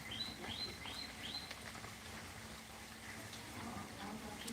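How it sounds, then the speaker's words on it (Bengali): Light rain falls in a cool outdoor setting, making a faint, steady patter throughout, with a few brief bird chirps near the start. "বৃষ্টি হচ্ছে"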